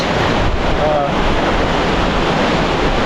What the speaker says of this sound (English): You know what the best thing about coming closer to the waterfall is?